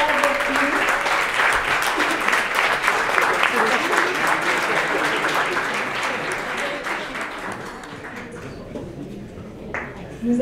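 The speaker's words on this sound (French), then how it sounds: "Alors, une bonne main d'applaudissement pour M. Marcel Comont, secrétaire avec nous." An audience at an anniversary recognition evening for the Société Provancher applauds Marcel Comont, the society's secretary. The clapping is steady and sustained from a sizeable crowd and then gradually thins out toward the end.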